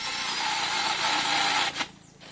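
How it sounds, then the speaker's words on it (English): A mini chainsaw cuts into the underside of an ice cream bean tree branch in an Ecuador ecovillage garden, a steady high buzzing whine for over a second before dropping off sharply. "So I'm gonna start by cutting the underside a little bit,"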